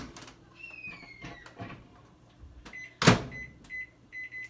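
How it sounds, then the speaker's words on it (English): A microwave oven is loaded with donair meat in a silicone steamer: soft handling clicks, a sharp door thud, then a short series of clear electronic beeps as it is set on high. "It's gonna go in the microwave in the silicone steamer."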